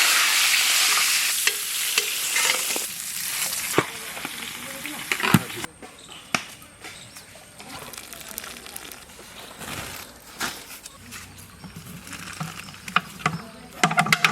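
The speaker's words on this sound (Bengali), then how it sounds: "ইলিশ মাছের মাথা ভেজে নিয়েছি" Hilsa fish heads fry in mustard oil in a village kitchen, a loud dense sizzle with stirring scrapes at first, then quieter crackling and scattered clinks as the frying settles.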